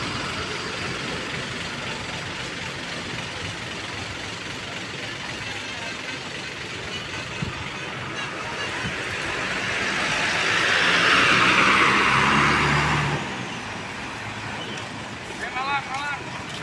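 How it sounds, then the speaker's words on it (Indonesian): Intercity buses idling at Bungurasih bus terminal, a low steady engine rumble that swells for a few seconds as one nears and passes, with a hissy high whine and a voice speaking throughout. "Terpantau banyak bus yang menuju ke arah Jabodetabek"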